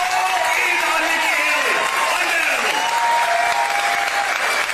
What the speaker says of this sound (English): A very, very enthusiastic crowd last night in New Hampshire